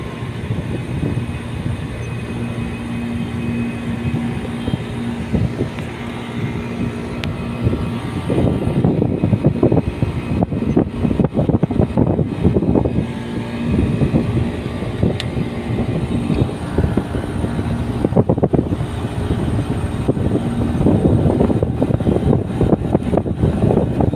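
An air conditioner compressor, newly kicked on after a magnetic contactor was fitted, runs with a loud, steady mechanical drone and rattle that grows rougher and fuller partway through, with no one talking.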